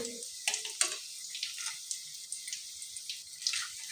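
Chicken lollipops fry in hot oil with steady, fine crackling and popping, close and moderately loud, with a brief low voice early on.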